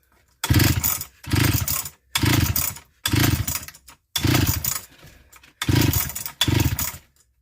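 A 1970s Swedish chainsaw with a bad coil, flooded after extra gas and choke, sputters and roars in seven loud, close bursts separated by short pauses as it repeatedly tries to start.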